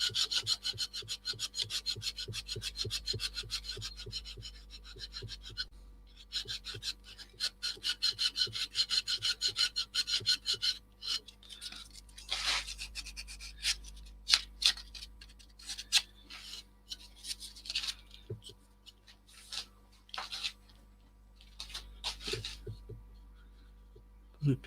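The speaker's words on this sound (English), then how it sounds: "Just using a piece of 240 just to give this a quick" A wooden crochet hook is sanded with 240 grit sandpaper, giving a steady run of quick, close rasping strokes, dense at first, then sparser and more irregular scrubbing toward the end.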